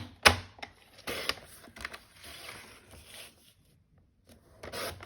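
Several close scraping, slicing strokes of card being cut for handmade card making come in short bursts separated by brief pauses, with no talking.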